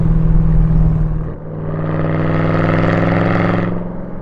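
A 2013 Chevrolet Camaro ZL1's supercharged 6.2-liter LSA V8 idles with a deep, loud rumble, briefly dips, then revs up smoothly into a sustained rising roar before settling back down.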